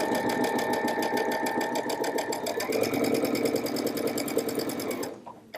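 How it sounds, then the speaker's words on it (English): A sewing machine stitches quilt pieces for a floral pinwheel block along a marked diagonal line, a fast, even mechanical rattle running close and loud for about five seconds before stopping abruptly. "as we take it over to the machine, we're going to sew right on our marked line"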